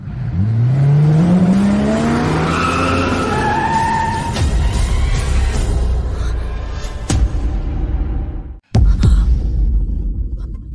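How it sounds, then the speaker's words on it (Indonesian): A rusty pickup truck engine revs up with a rising, whining tone and then rumbles steadily as it drives. Loud and close, it has a sudden brief cut near the end, and no voice is heard. "Taufik, kamu membeli mobil, tapi aku tidak yakin truk pickup berkarat milikmu itu akan diizinkan masuk ke korporasi imperial."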